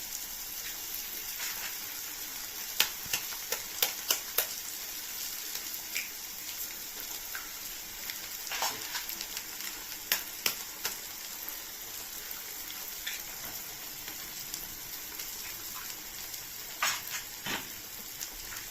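Eggs frying in a pan, giving a faint, steady hiss with scattered small pops and crackles spread across the whole stretch.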